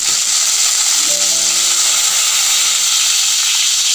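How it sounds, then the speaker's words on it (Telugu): Onion pieces sizzling in oil in a pan for okra curry, a loud, constant hiss throughout, joined partway by a faint steady hum beneath. "అందులో కొంచెం ఉల్లిపాయ ముక్కలు కూడా వేసి కొంచెం వేగనిద్దాం."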